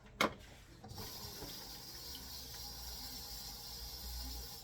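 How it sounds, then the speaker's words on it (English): Blueberries rinsed under a running kitchen tap, a steady close hiss of flowing water into a sink after a brief knock at the start, with no talk. "I don't have to wash these, but I'm going to."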